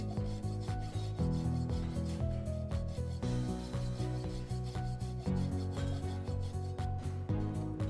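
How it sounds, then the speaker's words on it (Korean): Hand file rasping across the surface of a steel pipe in steady back-and-forth strokes, close and continuous with a gritty metallic scrape. "파이프 표면에 묻어있는 흙 또는 강관을 보호하는 얇은 기름층을 벗겨내서 매직픽스의 접착력을 키우고자 파이프 표면에 줄질을 했고요"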